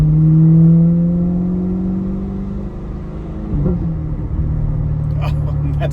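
A C8 Corvette fitted with a titanium exhaust revs and idles with a deep, throaty rumble, a strong swell of engine note early on easing into a steady idle, with a few sharp blips near the end.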